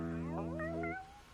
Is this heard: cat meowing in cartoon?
yes